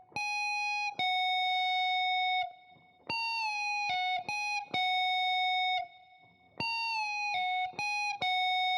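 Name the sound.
electric guitar pre-bends and pull-offs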